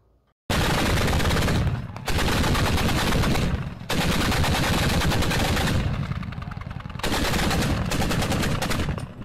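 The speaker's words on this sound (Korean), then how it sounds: "이 영상에서 고사총 기관총이 발사 위력을 보일 수가 있을 겁니다" Sustained bursts of heavy automatic fire from a North Korean anti-aircraft machine gun, loud and dense across the whole span, with brief lulls between three long volleys.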